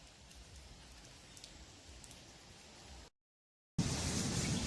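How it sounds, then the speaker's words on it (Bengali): Rain falling again at a park in Munnar, a soft steady patter of drops on surfaces, broken by a short silence and then returning louder and closer. "পুরো বৃষ্টি আবার শুরু হয়ে গেছে।"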